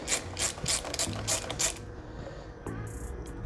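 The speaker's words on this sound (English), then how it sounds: "Tightening up the supplied lever guard." Close, loud ratchet clicking in quick bursts while tightening the lever guard on a 2023 BMW S 1000 RR motorcycle, then a short pause and a few slower clicks, with no talking.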